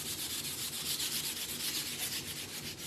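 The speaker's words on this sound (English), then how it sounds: "I'm going to lightly sand it with my" A small wooden door tag is rubbed by hand with a scrap of sandpaper in a quick, continuous scratchy rasp, close and quiet, with no voices.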